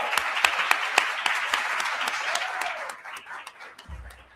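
Conference audience applauding a speaker being introduced, dense sustained clapping that thins and fades out toward the end, with a low thump at the close.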